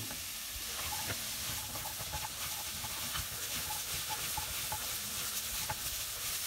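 Spices sizzle in a hot pan for a chili con carne while a spoon stirs them, a soft steady hiss with light scraping patter throughout, close and quiet.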